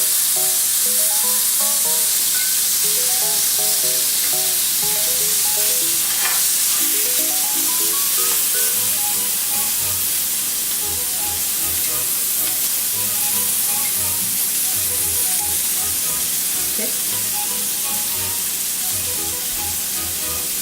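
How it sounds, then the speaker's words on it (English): A steak sizzles steadily in a hot pan on a gas stove, a loud continuous hiss of frying fat with occasional sharper crackles as the meat is flipped, no voices. "Now we're gonna flip the steak."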